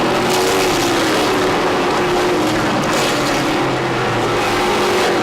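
Race cars roaring around a short track on the final lap, a loud, sustained engine drone with rising and falling pitch as cars pass, nearby and continuous.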